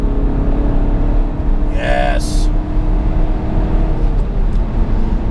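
A VW Golf Sportwagen TDI diesel with a Stage 1 tune pulls hard on a race track, its engine droning loud and steady from inside the cabin while someone talks over it.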